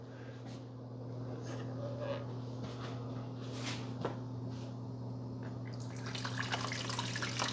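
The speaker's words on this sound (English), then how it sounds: "Okay, so I've got this filled up with water. Let's pour it in." Water pours into the reservoir of a Cuisinart 12 Cup Coffee Center Grind & Brew Plus maker, a faint trickle with small splashes and drips over a steady appliance hum, growing brighter near the end.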